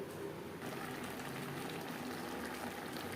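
Bottle gourd (lau) simmering gently in a pot over a low gas flame, a steady soft bubbling hiss running unbroken throughout with no voices.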